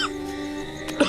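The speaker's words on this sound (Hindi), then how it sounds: "3-4 दिनों से खांस रहा है।" A man with a fever who has had a cough for several days coughs once, a short throaty burst near the end of a quiet moment, close and fairly soft.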